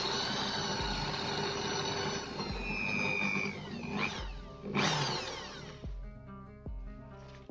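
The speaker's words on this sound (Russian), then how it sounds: "Теперь берем дрель, миллиметровое сверло и сверлим дырки." A power drill with a 1 mm bit whirs in several short bursts, drilling holes, revving up and winding down between pauses, close by with no talking.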